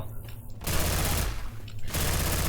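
Rapid automatic gunfire in the zombie shooter Left 4 Dead 2, loud bursts of dense shots broken by brief pauses.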